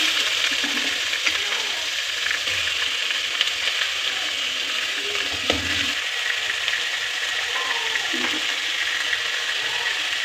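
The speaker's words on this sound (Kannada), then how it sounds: "ಶುಂಠಿ ಮತ್ತು ಬೆಳ್ಳುಳ್ಳಿ ನೀಟಾಗಿ ಫ್ರೈ ಮಾಡ್ಕೋಬೇಕು ಅದು ಹಸಿ ಸ್ಮೆಲ್ ಹೋಗೋವರೆಗೂ" Ginger and garlic fry in a pan with a loud, continuous, close sizzle and faint crackles throughout, and no one talks.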